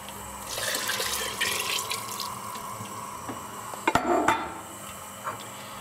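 Vegetable stock poured into a pot of cauliflower, butternut squash and sweet potato curry, a trickling splash of liquid followed by a few clinks and knocks of a utensil against the pot.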